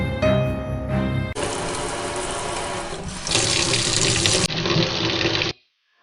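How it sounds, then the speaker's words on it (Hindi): Water gushes from a kitchen wash basin tap into the sink, loud and close, in several abrupt segments as the flow changes pitch and force, then cuts off suddenly into silence. "वॉश बेसिन से पानी गिरने की, बर्तन गिरने की आवाजें"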